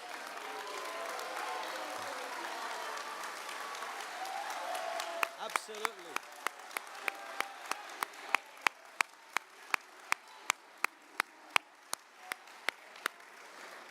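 An awards ceremony audience for a university athletics event breaks into scattered applause under a speaker's voice, then a single clear clap repeats in a steady, evenly spaced rhythm for several seconds, loud and close.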